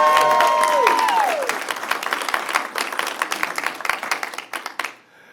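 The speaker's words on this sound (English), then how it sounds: "So, you just had an applause, but let's hear it one more time for our police." Audience applause for the police at a Citrus Heights State of the City civic gathering: a crowd claps loudly as a musical tone ends, then the clapping thins out and fades away.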